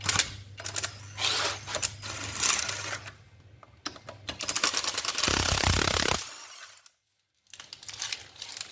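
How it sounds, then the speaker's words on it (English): An impact wrench works the wheel bolts off a Volvo XC90 during a front brake job, with bursts of rattling hammering, a longer sustained buzz, and metallic clinks of bolts dropping, near and loud. "I can just pop them off with an impact"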